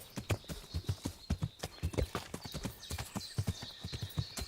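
A horse named Pebbles scrambles up a very steep slope in the video game Kingdom Come: Deliverance, its hooves striking in quick, uneven clip-clop bursts close by, with a brief whinny-like tone above them.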